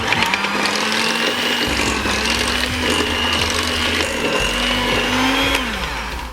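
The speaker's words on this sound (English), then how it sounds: "And then we'll start mixing everything together." An electric mixer beating pumpkin cake batter in a bowl gives a loud, continuous motor whir that holds steady throughout, with faint rattling of the beaters and no speech.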